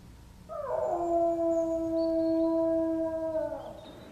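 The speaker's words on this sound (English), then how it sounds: "Watson, did you hear? My blood is chilled. The Hound?" A hound howls out on the moor, one long sustained eerie wail that swells and fades over a few seconds, moderately distant with no talk over it.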